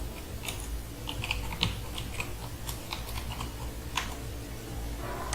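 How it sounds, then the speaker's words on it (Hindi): Keys on a computer keyboard are typed in an irregular run of crisp, close clicks over a low, steady room hum, with no one talking. "यानी हम दानिश टाइप करते हैं"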